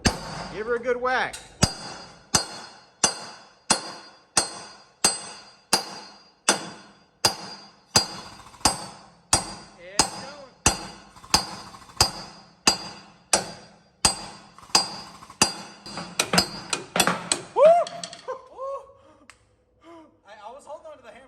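A hammer whacks a part underneath a wrecked 2014 Jeep Wrangler Sahara, roughly two dozen loud sharp metallic blows in a steady rhythm, one every second or so, with faint voices between strikes before it stops.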